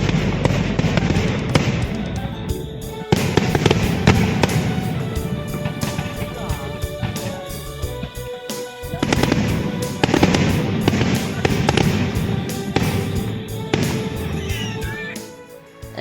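Diwali firecrackers burst in Delhi in dense crackling volleys, rapid pops and bangs in long rattling strings with short lulls between them, loud and close.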